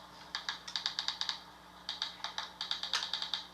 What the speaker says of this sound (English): Sorry, I'm not quicker on the keyboard.